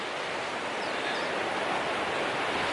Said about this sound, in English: So there's Fryatt Creek right here.